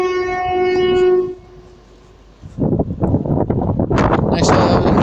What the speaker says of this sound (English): Next service to arriving is a LNER service from Edinburgh to London.